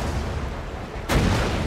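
An explosion goes off in the video game Borderlands: a faint, steady background hum is cut by a sudden sharp blast that leaves a louder, rumbling roar as it trails off.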